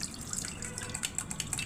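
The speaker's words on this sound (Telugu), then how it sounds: "గుమ్మడికాయ నీళ్లు వడబోస్తున్నాను, ఉడికించాను." Water strained off boiled pumpkin pieces trickles and drips softly and close, a brief quiet run of patters and splashes.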